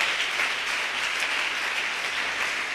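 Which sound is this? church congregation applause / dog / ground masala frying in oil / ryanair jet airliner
church congregation applause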